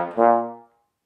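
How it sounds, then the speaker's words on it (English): Bass trombone sounds a single short, low brassy note that swells and quickly fades, played alone. "And this is the bass trombone,"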